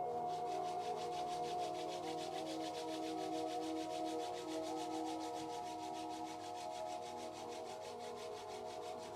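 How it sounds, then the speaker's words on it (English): Two palms rub briskly together, a continuous close, dry, even scrubbing texture with steady rhythm and no speech. "Rub your palm, make a heat."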